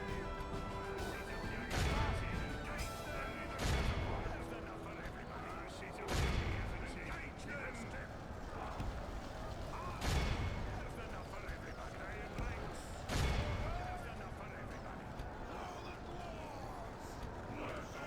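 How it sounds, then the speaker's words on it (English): Mortar fire in a Medieval II: Total War strategy game, Kazad-Dûm campaign: heavy booming shots land every two to three seconds over a dense background of battle noise, with talk mixed in. "I think that is a perfect location for dishing out some mortar shots"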